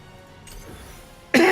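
A single close, loud cough bursts out at the very end after a stretch of quiet room tone.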